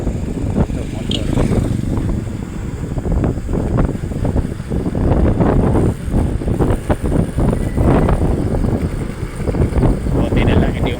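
A motorcycle engine drones steadily on a dark, quiet night road, loud and close throughout, with wind noise buffeting the microphone and a voice talking over it.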